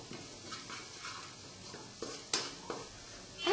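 Coriander, chili and turmeric powders being mixed into a frying pan for chicken curry, a soft low sizzle with a few light scraping stirs and one sharper clatter, quiet and close.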